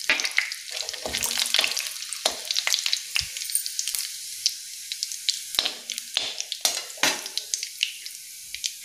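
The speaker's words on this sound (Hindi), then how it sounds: "तेल हमारा गर्म हो चुका है, हम इसमें तेज़पत्ता ऐड करेंगे, जीरा डालेंगे 1 चम्मच" Bay leaf and a spoonful of cumin seeds crackle and sizzle in hot oil for a mix veg dish, sharp spattering pops and bursts over a quieter frying hiss, close by, with no voices.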